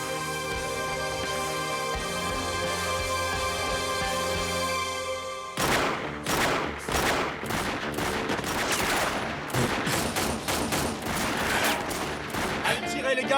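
Heavy gunfire in a TV drama shootout: after a tense musical stretch, rapid loud bursts of automatic fire and single shots crackle over the score.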